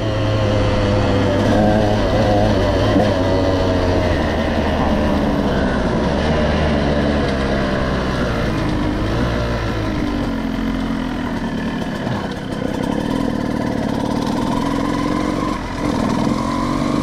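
Two-stroke KTM 200 EXC motorcycle engine running hot out in a field, its crackling exhaust revving and falling repeatedly for a sustained stretch, loud and close, with no talking.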